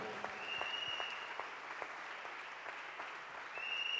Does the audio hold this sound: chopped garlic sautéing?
no